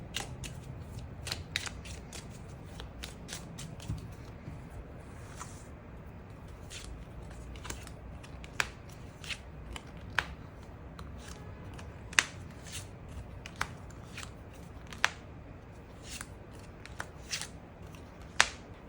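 Tarot cards being shuffled and drawn, soft rustling broken by sharp crisp snaps and flicks at irregular intervals, close and fairly quiet, with no talk.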